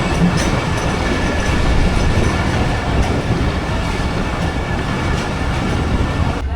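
A passing 18 Down train heard from aboard the Rehman Baba Express, a steady loud roar of wheels and carriages with faint rhythmic clatter, continuous throughout and close, with no talk.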